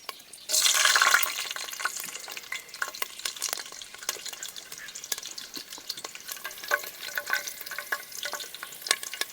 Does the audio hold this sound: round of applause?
no